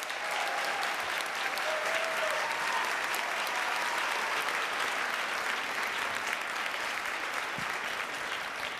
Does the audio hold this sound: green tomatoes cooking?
no